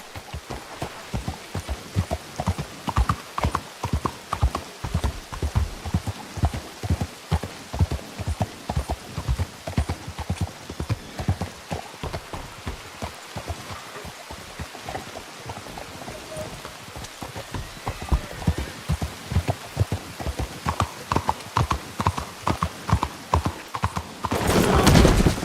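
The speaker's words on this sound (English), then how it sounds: "You ought to take care of that horse there." Steady clip-clop of horse hooves in a video game, a close, loud and regular rhythm that slows midway and picks back up, with occasional rain-like patter and a louder burst at the very end.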